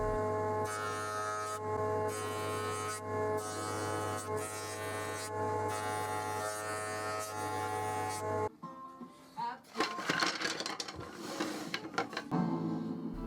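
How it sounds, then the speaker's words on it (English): A thickness planer set to 8mm planes rough-sawn hardwood pieces, running with a loud steady motor hum and harsher bursts as each piece feeds through, then giving way to irregular clattering and handling noise. "I started by setting my thickness planer to 8mm and pushed each piece through with the rough sawn side facing upwards towards the blade."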